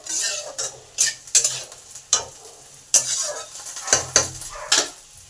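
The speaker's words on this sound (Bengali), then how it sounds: "নুন আর হলুদটাকে ভালো করে পটল আর আলুর মধ্যে মিশিয়ে নিলাম দু মিনিট কষে নিলাম" A spatula scrapes and knocks repeatedly against a pan as diced potato and pointed gourd with salt and turmeric are stirred and sautéed, irregular close clatters over a steady frying sizzle.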